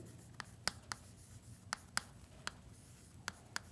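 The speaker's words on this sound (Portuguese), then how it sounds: "vou escrever aqui, ó" Someone works through an arithmetic lesson, writing on a board with quick tapping strokes in short irregular bursts, close and faint against a low room hum, with no talk.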